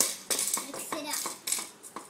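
Quick clinks and scrapes as a toy potion is stirred in a play pot, a run of small light knocks close to the mic, mixed with a voice.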